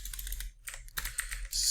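Fast typing on a computer keyboard, a short close burst of clicky keystrokes with no talk over it.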